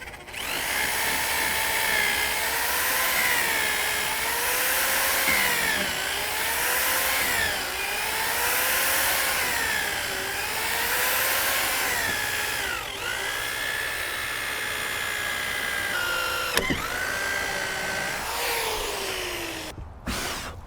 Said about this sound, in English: I've got a ton of drilling to do today.